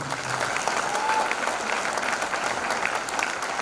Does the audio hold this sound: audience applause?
yes